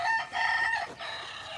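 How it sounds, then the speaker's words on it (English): A chicken kept in a greenhouse gives a drawn-out, crowing call that rises and wavers for over a second, heard fairly close and clear with little else around it. "I got some chickens in there."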